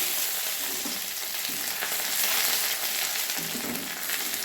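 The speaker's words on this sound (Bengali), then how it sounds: "এবারে ওই তেলে, মাছ ভাজার তেলে আমি একটা আদা ফোড়ন দিয়ে দিচ্ছি।" Ginger tempering in hot oil left over from frying fish, a loud, dense, continuous sizzle and crackle heard up close with no talking.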